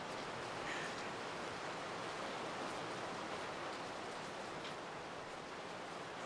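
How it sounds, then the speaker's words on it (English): February rain falls at dawn near Oruro in the Bolivian Andes as a steady, unbroken wash of hiss, even in level and continuous, with no voices or other distinct sounds. "The February rains have started to fall in nearby villages and are moving closer to Oruro at dawn"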